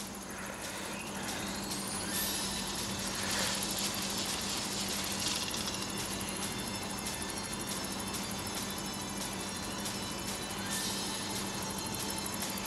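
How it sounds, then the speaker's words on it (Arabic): A boss helicopter in the tank game Hills of Steel whirs as a steady faint mechanical drone under game noise, with a few metallic clanks and rising whistles. "طيارة هليكوبتر"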